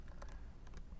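Quick, faint clicks of a computer keyboard, several keystrokes in a brief burst during a programming lecture.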